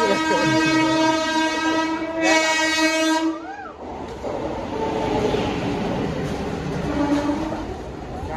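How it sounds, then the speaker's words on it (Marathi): A train horn sounds loudly for a few seconds, then a train rumbles and rolls into a station steadily with clattering noise. "आता ट्रेन आलेली."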